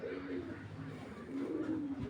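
A racing pigeon coos softly in low, throaty tones, a few repeated calls close by amid quiet background noise.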